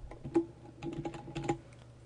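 Keystrokes on a computer keyboard while typing an email message, a quick uneven run of light clicks and taps, close and fairly quiet, with no talking.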